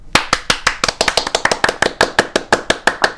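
Hands clapping in a steady, rapid rhythm, about twenty sharp claps close by with no talking, like a small group applauding a friend winning an award.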